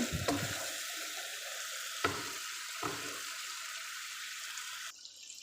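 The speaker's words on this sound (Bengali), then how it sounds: "এখন আমি মাছগুলো দিয়ে দেব" Sea fish dropped into hot oil with pumpkin, a burst of sizzling followed by a couple of sharp crackles that settle into a steady fry, close by with no talking.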